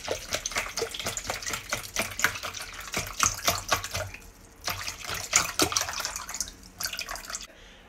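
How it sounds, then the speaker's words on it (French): Tap water at room temperature being stirred together with a cleaning product in a container, with wet sloshing and dripping sounds in irregular bursts, close and fairly clear, pausing briefly between stirs. "Je vais mélanger le produit avec l'eau"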